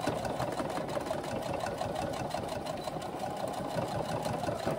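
A domestic sewing machine runs continuously, stitching and reversing back over a seam with a steady fast mechanical whir and rapid needle clatter, moderately quiet and close, with no talking.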